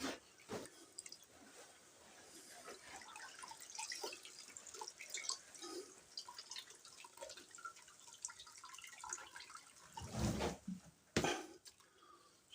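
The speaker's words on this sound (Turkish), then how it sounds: "Şöyle suyunu süzdürüyoruz." Water drains and drips from a freshly washed tulle curtain, a soft, close sequence of irregular patters and trickles with a few louder splashy drips near the end.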